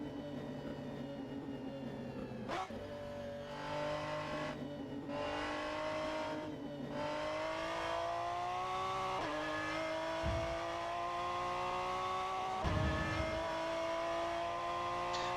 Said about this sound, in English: don't overspeed the engine, Caden